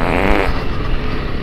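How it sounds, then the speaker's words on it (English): A single loud, close fart rasps out for about a second, then trails off. "I'm going to break wind again"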